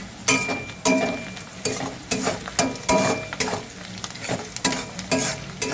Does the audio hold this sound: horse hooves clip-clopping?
no